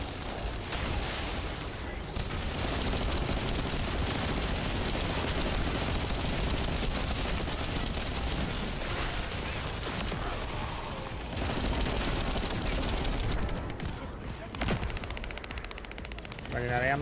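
Gunfire in the shooter The First Descendant: sustained rapid automatic fire hammers on almost without a break for the whole stretch, loud and dense, with brief lulls and a voice talking quietly underneath.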